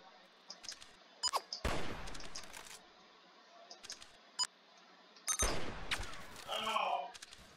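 Paintball gun fire in a King of the Hill match of the video game Mad Paintball 2, sparse sharp bursts and single shots at moderate level over a quiet background, with a few electronic beeps.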